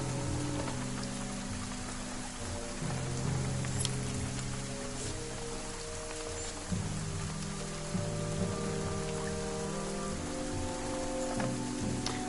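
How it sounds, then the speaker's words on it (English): Steady rain falls in the Banner Saga video game, a dense patter of drops on the ground with scattered louder splashes over a low droning musical bed, no voices. "The darkening sky lets loose its rain."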